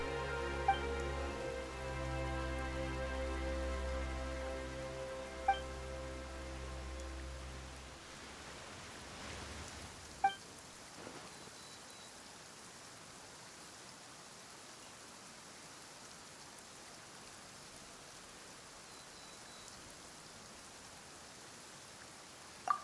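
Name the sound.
rain in a video game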